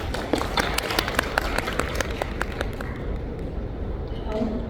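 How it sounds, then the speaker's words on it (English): An audience claps with brisk, scattered hand claps that thin out and fade after about three seconds, with a murmur in the background. "please give her a big applause"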